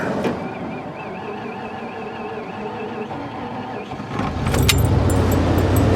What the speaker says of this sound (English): let's go ahead and fire up this truck